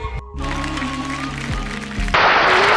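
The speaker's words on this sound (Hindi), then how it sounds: "जोरदार तालियां हो जाए" Audience applause at an event in honour of Babasaheb Ambedkar bursts in loud and dense near the end, after a sustained tonal, music-like passage.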